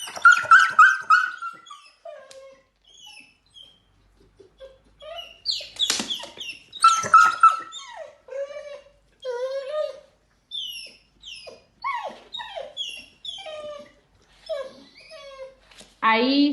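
A dog in pain whimpers in high, thin whines and breaks into occasional sharp barks, with irregular cries and pauses across the stretch, close and clear.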